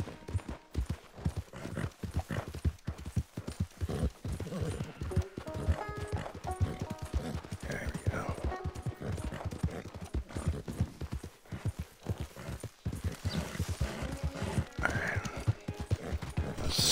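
Horse hooves gallop in Red Dead Redemption 2, a steady clip-clop rhythm running close and loud throughout, with brief whinnies and other game sounds layered over it.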